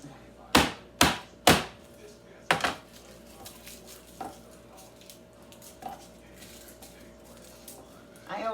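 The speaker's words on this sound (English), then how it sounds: "let's cut the garlic up now" Garlic being chopped with a knife on a board in a home kitchen: three sharp, loud chops in quick succession, another pair, then softer scattered taps fading out, with light kitchen clatter around.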